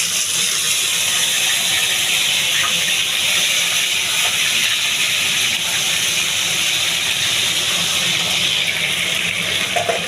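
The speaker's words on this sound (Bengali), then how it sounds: "পেঁয়াজ রসুনের পেস্টটা একটু ভাজা হয়ে যাচ্ছে" Onion and garlic paste fries in a pan, making a loud, steady sizzling hiss that continues unbroken for the whole stretch, close by with no talking.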